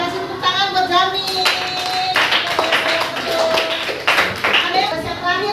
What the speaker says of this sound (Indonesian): Oke, kasih tepuk tangan buat Jami.